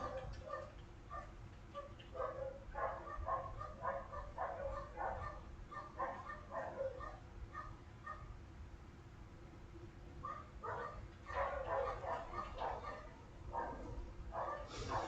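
Neighbors' dogs in rural Trinidad bark in repeated clusters of barks and yips in the background, faint and distant, with quieter pauses between bursts.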